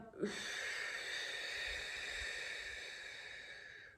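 One long, steady breath is blown out during a shoulder press, close and airy, holding for about four seconds before it tails off, with no talking.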